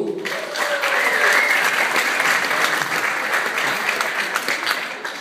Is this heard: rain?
no